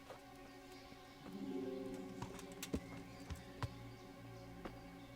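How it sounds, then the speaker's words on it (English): Horses clip-clop in the video game Kingdom Come: Deliverance, with a few scattered hoof knocks over a quiet game soundscape and a faint musical tone, all fairly soft. "Bring the horses."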